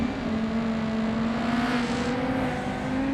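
A race car engine in BeamNG.drive holds a steady, droning note as cars pass on the East Coast map. The sound is continuous and moderately loud, with a faint whoosh partway through and no voices.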